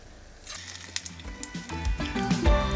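A jicama latke sizzles as it fries in a pan, a steady crackling that builds and grows louder over a few seconds, with soft squishy touches and light pan sounds and no talking.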